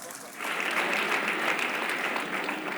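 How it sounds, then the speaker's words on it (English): Audience at a formal celebration event breaks into a round of applause, steady dense clapping building quickly and sustained throughout at moderate distance. "I thought you were going to give him a round of applause."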